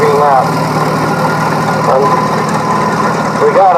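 1920 Minneapolis 22-44 vintage tractor with cross motor and cross radiator running in a parade, a loud steady low engine rumble with someone talking over it.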